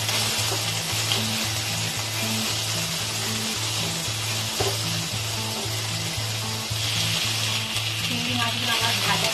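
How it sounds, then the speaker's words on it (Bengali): Prawns frying lightly in mustard oil make a continuous loud sizzle with crackling spatter, over a steady low mechanical hum that pulses in a regular pattern throughout. "আমি এবার তেলের মধ্যে চিংড়ি মাছগুলো দিয়ে দিই। চিংড়ি মাছগুলো আমি হালকা করে একটু ভেজে নেব।"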